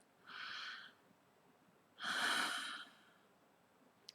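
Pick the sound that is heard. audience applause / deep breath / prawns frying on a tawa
deep breath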